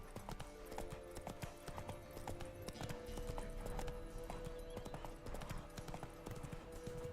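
Horse hooves clip-clopping at a steady walking pace in The Witcher 3 video game, a close, continuous run of crisp hoof strikes with a faint snort or whinny.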